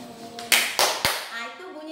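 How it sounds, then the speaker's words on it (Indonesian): Hands clap three times in quick succession, sharp and close, during a first-grade class lesson about sounds, with a voice talking before and after. "itu bunyi tepuk tangan"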